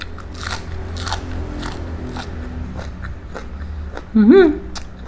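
Crisp, close bites into spicy Thai pork larb with fresh raw vegetables give a run of sharp crunches and crackles, with a short voice near the end.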